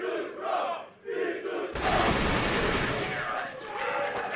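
Crowd at a Counter-Strike esports finals match on Inferno in London erupts into loud, sustained cheering that swells suddenly and stays broad and noisy, following quieter game sounds.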